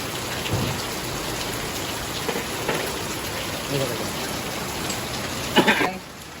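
Heavy storm rain pours steadily throughout, a dense continuous hiss with a brief louder burst near the end, and no voices.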